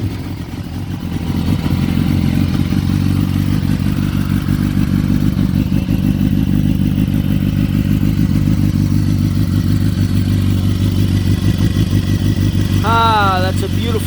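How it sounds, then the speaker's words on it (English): BMW HP4 Competition motorcycle with an Akrapovic full exhaust system idling loudly and steadily up close, a deep continuous rumble with a brief rising rev flutter near the end. "let's go ahead and take a listen to the Akrapovic full system"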